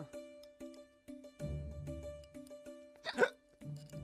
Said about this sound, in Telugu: 2 సార్లు వినబడుతున్నాయి ఎక్కిళ్ళు